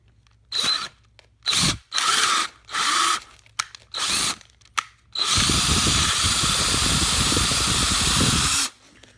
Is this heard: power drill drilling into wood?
yes